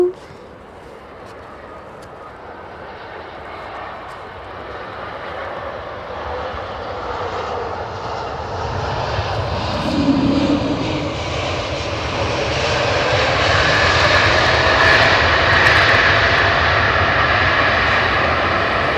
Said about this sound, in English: Those Pratt & Whitneys, they can chuck a load of reverser out, man.